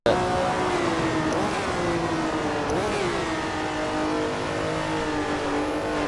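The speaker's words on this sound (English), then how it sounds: "Car sounds pretty good. I know it has a V12." A Ferrari V12 engine in the video game Assetto Corsa revs steadily and loudly with rising and falling pitch, a continuous high-revving mechanical roar throughout.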